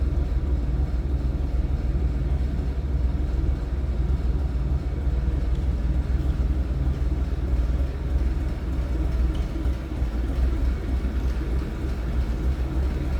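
1965 Ford F100 pickup engine idling close by, a steady low rumble with an even, throbbing drone that never changes.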